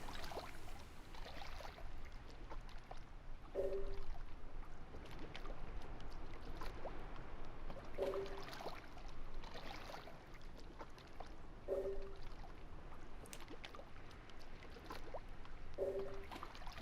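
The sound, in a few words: sound of water in the background, video game The Last Remnant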